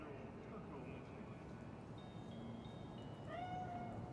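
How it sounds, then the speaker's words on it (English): A cat meows in a Cyberpunk 2077 game scene, a few short rising cries over a steady ambient bed, the clearest one near the end, moderately close but not loud. "Chill, just a cat."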